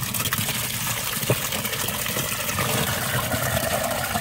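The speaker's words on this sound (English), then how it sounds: "Look at all of that delicious water." Sulfur-smelling water gushes from a pipe into a hole dug for a backyard turtle pond, a dense continuous splashing rush, close and steady with no speech.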